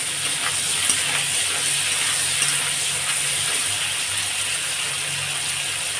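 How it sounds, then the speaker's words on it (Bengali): Crab rubbed with salt and turmeric fries in hot oil, giving a loud, continuous sizzle and crackle with no talk. "প্রথমে কাঁকড়াটাকে ভেজে নিচ্ছি ভালো করে।"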